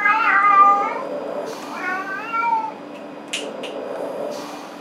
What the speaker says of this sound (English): my cat Grant is crying you a river